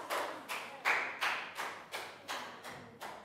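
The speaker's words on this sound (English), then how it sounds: "Big round of applause for Lakau." Several bursts of classroom clapping in a steady rhythm, roughly twice a second, close and fairly loud, with no voices.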